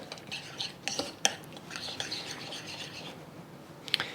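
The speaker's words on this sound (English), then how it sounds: "Okay, we're just gonna give this a stir" Metal utensil stirring Szechuan garlic chili sauce with numbing chili, giving faint intermittent scrapes and a few sharp clinks against the dish, close by with no talking.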